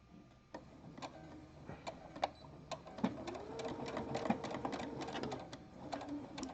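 A sewing machine stitches jockstrap elastic diagonally, running in short bursts at first and then in a steady whirring stretch with rhythmic needle clicks, close and fairly quiet.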